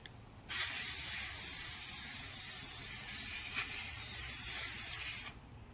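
A single steady hiss from an aerosol can of factory-color car touch-up paint laying down a second coat, running unbroken for about five seconds at close range, with no talk over it.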